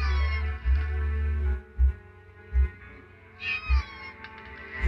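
A cat meows from within The Last Door, a horror adventure game, its harmonic calls sounding close and clear over a low ambient drone with a few soft thumps.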